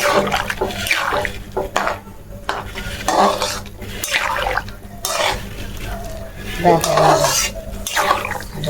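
Lota vegetable is washed in hot water in a pot, with repeated sloshing, splashing and clattering of the vessel in quick, uneven bursts close by.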